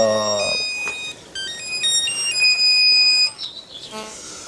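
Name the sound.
telephone ringtone ringing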